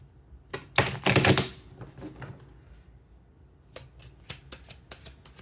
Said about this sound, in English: we're just going to shuffle this a few times